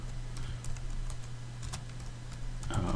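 Keys clicking on a computer keyboard while entering title-block text in AutoCAD, a quiet scattered run of light taps over a steady low hum, close and soft with no talking.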